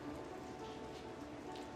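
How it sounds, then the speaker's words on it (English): Rain falls steadily across open plains in South Africa, a soft continuous hiss of drops, faint and brief. "Finally, rains fall throughout South Africa."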